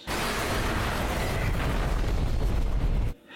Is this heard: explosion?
yes